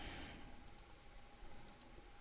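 A few sharp key presses on a computer keyboard, including the F4 key, sound as isolated clicks over a quiet room hum, spaced apart with a double tap near the start and another pair later.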